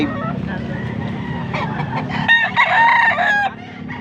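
Rooster crowing loudly and close at a cheap chicken market in Angeles City, Pampanga, one long crow rising over steady market noise and low background chatter.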